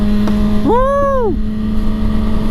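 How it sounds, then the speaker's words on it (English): A 2022 Kawasaki ZX6R 636 sport motorcycle revs over a steady idle hum, its engine note rising and falling in one quick sweep while riding around town, followed by a sharp pop. "Oh yeah, it's backfired and shit."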